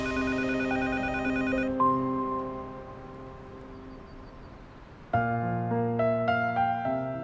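A telephone rings indoors with a clear, sustained electronic ring tone that fades out and then sounds again, loud and close with no talking.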